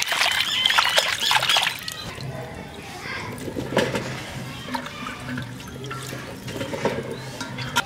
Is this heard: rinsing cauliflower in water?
yes